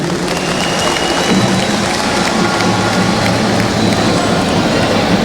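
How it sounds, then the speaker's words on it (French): Dense, steady applause from a large audience greeting the President of Burkina Faso at a state event, a loud continuous wash of many hands clapping throughout with a crowd murmur beneath. "que je vous prie d'applaudir"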